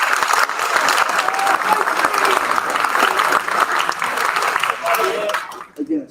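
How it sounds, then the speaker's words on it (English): Applause from an audience at an 8th grade school awards ceremony: sustained, dense clapping from a large crowd that fades out near the end, with faint voices beneath it. "Let's give a round of applause for them as well"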